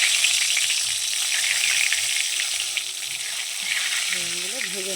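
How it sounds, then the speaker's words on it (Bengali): Eggplant pieces fry in hot white oil in a wok, a loud steady sizzle and crackle throughout, with a few low stirring scrapes and a faint whining tone near the end. "বেগুনগুলো ভেজে নেব"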